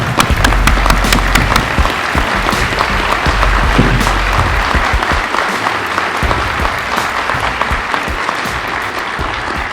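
Loud, sustained applause fills the room for about ten seconds at a New Bedford police promotion ceremony, many hands clapping in a dense, even roar honoring an officer.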